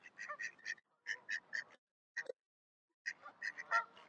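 Ducks at a park pond in Queens Park, Longton, Stoke-on-Trent, giving several bursts of loud, close honking quacks separated by short pauses, with no talking.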